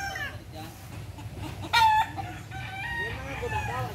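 A rooster crows loudly once, with backyard chickens clucking around it and soft background chatter.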